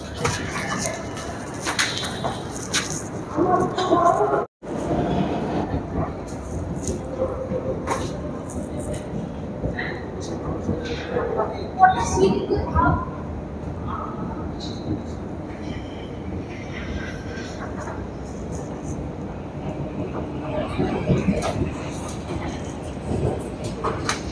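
A Kolkata Orange Line metro train runs between New Garia and Ruby, its steady rumble and rail clatter continuous throughout, with a brief sharp dropout and occasional voices in the carriage.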